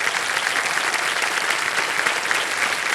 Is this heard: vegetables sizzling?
no